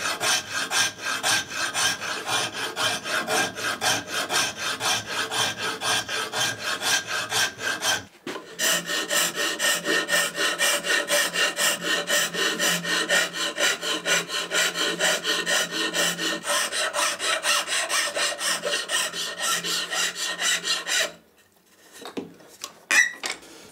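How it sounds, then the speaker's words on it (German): A file rasps steadily back and forth across a wooden hand plane handle in a workshop, loud, close and rhythmic, with a short pause near the middle and then a quieter stop toward the end. "Natürlich nützt die beste Feile nichts, wenn man nicht die richtige Technik drauf hat."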